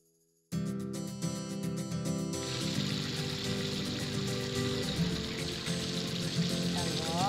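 Sliced bananas sizzle and crackle steadily in hot frying oil, starting abruptly after a brief silence and staying loud and dense throughout, with no talking.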